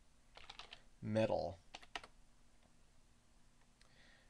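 Computer keyboard keys tapped in short bursts while a search is typed, quiet clicks spread across a few seconds with one louder, fuller bump of noise near the start and brief talk.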